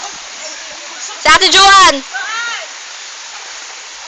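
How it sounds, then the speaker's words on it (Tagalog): A waterfall in a remote, secluded spot roars as a steady broadband wash throughout, with a brief shout from a voice over it partway through. "Ito talaga falls. Kaya malamig yung tubig."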